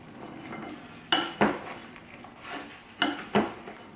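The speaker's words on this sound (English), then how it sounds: "I need a big spoon that I can mix this all up with" A big spoon mixes salad in a bowl, giving a soft rustling bed broken by four sharp clinks of utensil against the bowl in two pairs.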